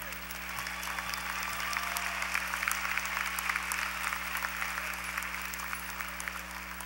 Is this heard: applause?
yes